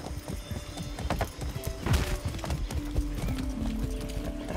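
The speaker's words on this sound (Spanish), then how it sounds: "no me subo a un caballo desde el entrenamiento" Horse hooves clip-clop at a steady gallop in the Far Cry 6 video game, loud and close, with a brief whinny and game sounds underneath.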